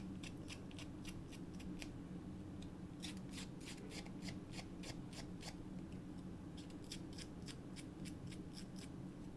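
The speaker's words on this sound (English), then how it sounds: "I'm just gonna grab the edge of my scissors and kind of rough up the edges on this a little bit" Scissor blade edges scrape along a paper tag to rough it up, making quiet, rapid bursts of crisp rasping strokes in three runs over a steady low background hum.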